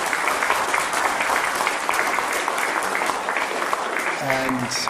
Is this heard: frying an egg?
no